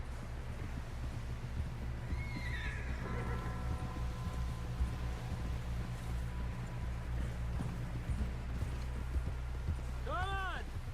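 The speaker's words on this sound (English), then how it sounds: "Someone help John down off this horse" Horse hooves clip-clop in a steady walking rhythm in Red Dead Redemption 2, under a constant low rumble of game ambience, with a brief whinny-like call near the end.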